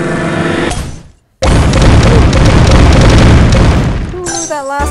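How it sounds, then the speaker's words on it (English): A bomb and rocket combination blast in the mobile puzzle game Toon Blast, a loud booming burst after a short silence that rumbles on for a few seconds amid game music and a voice talking. "Let's see if I can get a bomb and a rocket combination"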